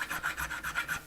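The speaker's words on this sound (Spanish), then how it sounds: "las partes que veamos que sobresalen un poquito, pues ir limándoles, con cuidado, con una lima pequeña" A small hand file rasps over protruding parts of a wooden ship model, about eight quick, even strokes in rhythmic succession, close and clear with no talking.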